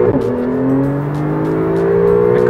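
A 2018 Porsche 911 Targa 4 GTS accelerates hard in Sport Response mode, the loud engine note climbing steadily in pitch as it pulls through the revs, heard up close without talk.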